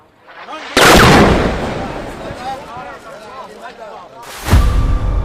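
Two sharp, heavy blasts of tank fire in a military attack, one near the start and one near the end. Each is loud and close, and a rumbling, echoing tail decays between them while a voice talks underneath.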